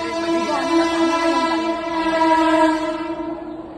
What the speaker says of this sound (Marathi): ट्रेन आली. ट्रेन आहे बघ.